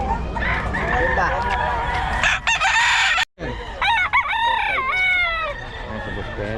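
A rooster crows loudly in several rising and falling calls, with clucking fowl and a dog barking nearby, while people chat in the background.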